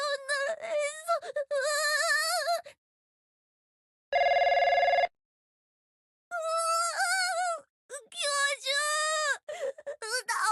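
In the Trickcal Revive game, a telephone rings in one steady electronic burst of about a second, set between stretches of animated, high-pitched character voices talking.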